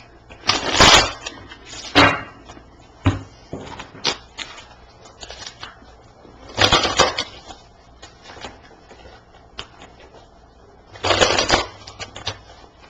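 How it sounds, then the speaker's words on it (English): Decks of tarot cards being shuffled by hand indoors: several separate bursts of crisp, papery riffling with quieter fiddling and handling noise between them, close to the listener. "I'm just finishing up shuffling the decks."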